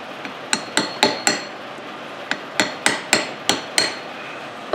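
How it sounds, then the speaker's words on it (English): A small hammer taps on a socket fitted to a Dodge Ram Cummins front driveshaft during reassembly: sharp metallic strikes in two bursts of quick, evenly spaced blows, close and clear with no talk. "So I'll go grab a small hammer."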